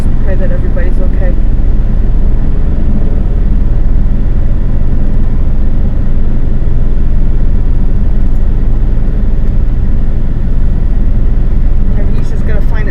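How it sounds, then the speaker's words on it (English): Helicopter engine and rotor drone setting down on rugged forest terrain, a loud continuous low roar that fills the whole stretch, with people talking over it. "How do helicopters land on rugged terrain? Oh, you're seeing it right now."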